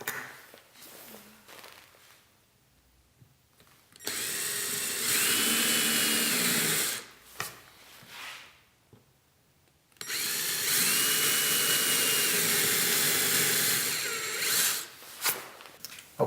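A Makita trimmer fitted with a custom jig routes wood in two loud, whining bursts of several seconds each, separated by quieter gaps with brief handling noises.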